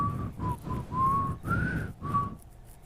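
A person whistles the Jeopardy theme tune as a series of clear, steady pitched phrases with short breaks between them, close and fairly quiet, then trails off into silence.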